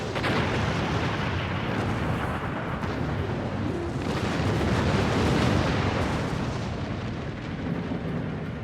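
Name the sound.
torpedo hits and explosions in Star Trek Online video game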